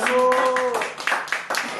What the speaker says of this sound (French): Applaudissez Stella, s'il vous plaît.